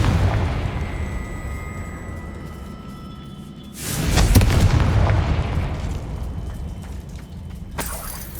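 Confringo blasting spell in the video game Hogwarts Legacy, a single loud explosive burst with a crackling, shattering tail that fades over a few seconds, then a sharper smaller pop near the end.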